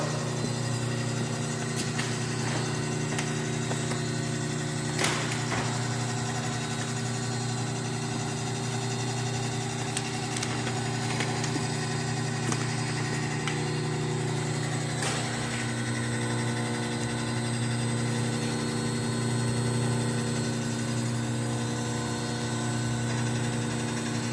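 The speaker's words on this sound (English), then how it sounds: "This is your fill motor on and off button. We'll turn it on." A bag clamp filler's fill motor runs steadily with a low, even machine hum and engine-like drone, joined by scattered mechanical clicks and clunks over about 24 seconds.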